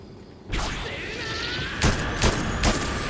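DMR rifle fire in Fortnite: a sudden loud burst with a ringing tail, then three more sharp cracks spaced roughly half a second apart, close and punchy.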